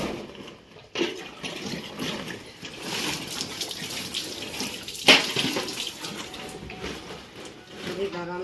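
Canal water splashes and trickles continuously as grain is rinsed by hand, with a sharp knock near the middle and faint voices underneath.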